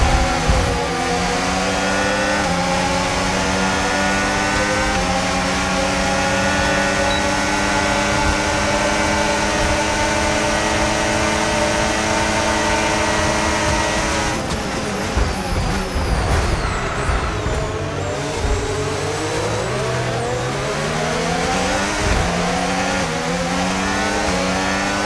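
A damaged Formula One single-seater race car drives on and on with a loud, close engine roar. The engine's pitch rises and falls through gear changes and throttle shifts, and no voices are heard.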